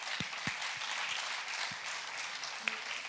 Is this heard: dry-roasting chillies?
no